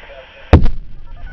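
A seismic exploration charge detonates down a shot well near Belén de los Andaquíes, Caquetá: one sudden, loud, sharp boom breaks a quiet hum and trails off in a short low rumble.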